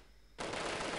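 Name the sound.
gunfire in the Delta Force video game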